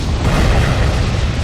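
Heavy explosions from a horror film scene, a dense, continuous low rumble of booms and blasts filling the whole stretch at loud, steady level with no speech.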